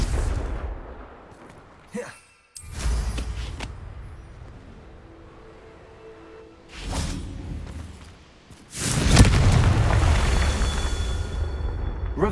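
Bombarda spell blasts from Hogwarts Legacy boom in several heavy bursts with whooshes between them, the last explosion loudest and rumbling on to the end.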